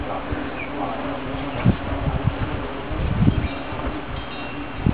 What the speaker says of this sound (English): carpenter bees.